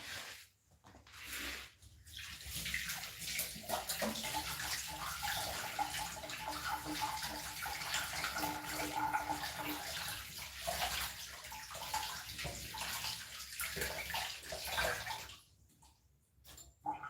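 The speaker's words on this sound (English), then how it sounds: "I'm going to wash my hands." Running tap water splashes steadily over hands being washed, a continuous close hiss that lasts for most of the stretch, starting and stopping near the ends with brief handling sounds.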